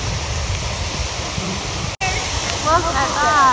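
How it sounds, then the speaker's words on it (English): A waterfall in Sequoia roars steadily from about 60 feet away, close enough for its spray to reach, with a brief dropout partway through and voices talking faintly near the end. "Look at that waterfall. That's amazing."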